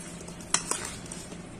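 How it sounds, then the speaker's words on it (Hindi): Lasoda pickle ingredients are mixed in a bowl, a soft scrape with two sharp spoon clinks against the container, brief and close, no talking. "अब इन सब चीज़ों को हम मिक्स करेंगे।"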